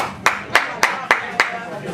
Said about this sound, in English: Don't clap, Nathan.